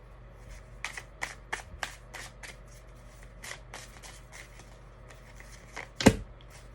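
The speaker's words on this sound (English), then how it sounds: "So let's go ahead and get a few tarot cards." Tarot cards shuffled by hand close up, a steady series of light flicks and slaps at a loose rhythm, ending with one louder slap of the deck, with no talking.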